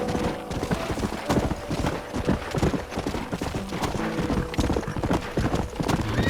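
Horse hooves clip-clop steadily with whinnying in the Wild West game Red Dead Redemption, a continuous busy game soundscape with steady trotting throughout.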